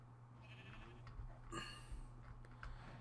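Sheep bleating in the Minecraft video game, a few faint bleats over a quiet, steady low background hum.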